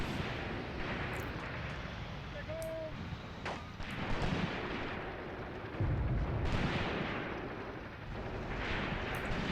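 In the Graviteam Tactics war game, tank and artillery fire booms out in repeated heavy blasts over a constant battlefield rumble, with occasional sharper pops.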